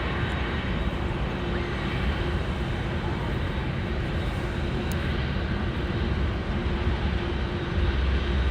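A Boeing 747 jumbo jet departs at Los Angeles International Airport, its engines making a continuous broad roar that stays steady and fairly loud for the whole stretch, with no talk over it.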